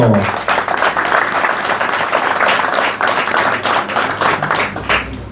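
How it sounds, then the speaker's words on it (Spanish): Loud, close applause and clapping from a crowd at a regional rally event in La Tordilla, a dense continuous patter of many hands with a faint voice mixed in. "Fuerte el aplauso"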